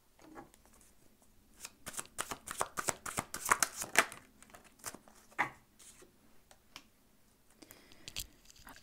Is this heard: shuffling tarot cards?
yes